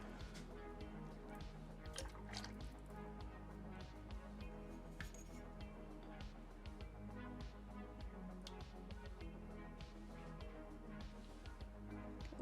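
Clear glaze is shaken inside a ceramic pipe, giving a busy, quiet rattle of liquid sloshing and small clinks that runs steadily throughout.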